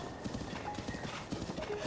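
Horses in Zelda: Breath of the Wild clip-clop in a steady rapid hoof rhythm, moderately close, under a low ambient game background.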